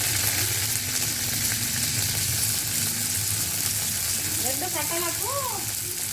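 Green chilies sizzle and fry in hot oil for gongura chutney, a steady crackling hiss throughout while a voice speaks briefly over it near the end.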